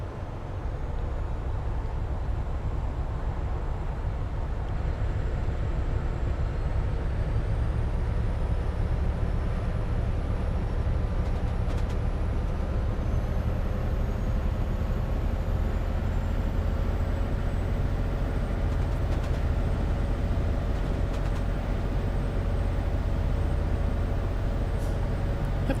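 A Class 66 diesel locomotive running in Train Simulator Classic on the West Coast Main Line Trent Valley gives a steady, loud low engine drone with continuous rail rumble and a few faint high clicks, and no voices.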